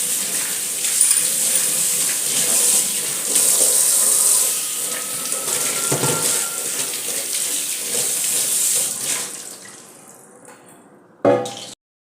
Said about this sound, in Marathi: आणि पाण्याने स्वच्छ धुवून घ्यायचं